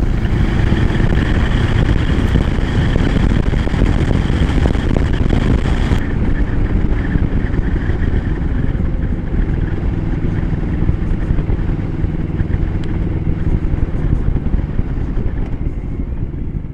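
A 2025 Moto Morini Calibro Bagger 700cc, 68 horsepower, being ridden, its engine drone buried in loud, continuous wind rush that eases slightly partway through.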